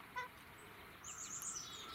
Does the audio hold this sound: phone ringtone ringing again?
no